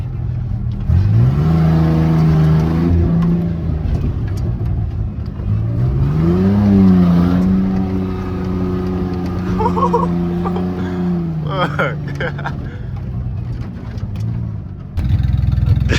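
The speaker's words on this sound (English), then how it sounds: "that misfire sounds so bad right now" A misfiring truck engine runs loud and rough close by, rising in a couple of revs and then sputtering unevenly at idle.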